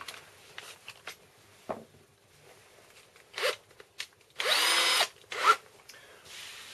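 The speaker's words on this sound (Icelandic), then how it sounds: "Og nú er hægt að bora með 4 mm bora í gegn." Small drill boring through wood with a 4 mm bit on a modelmaking workbench, intermittent short bursts of whirring and grinding with one longer sustained burst, close and loud with quiet pauses between.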